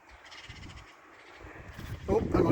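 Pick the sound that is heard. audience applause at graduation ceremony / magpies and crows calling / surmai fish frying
magpies and crows calling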